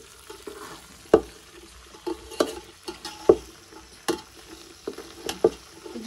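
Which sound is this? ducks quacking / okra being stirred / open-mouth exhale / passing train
okra being stirred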